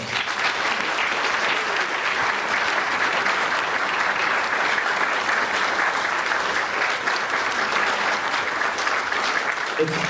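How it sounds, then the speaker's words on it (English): Sustained audience applause fills a town hall event hosted by the local NAACP, a dense, steady wash of many hands clapping close and loud for the full stretch without pause. "please let's give us a round of applause"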